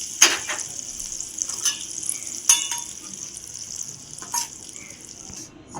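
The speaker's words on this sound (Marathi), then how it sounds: "मस्त अशी फोडणी द्यायची." Tempering spices for raw mango chutney sizzle in hot oil with cumin, turmeric and red chilli powder, giving a bright hiss broken by a few sharp crackles and pops, close and without speech.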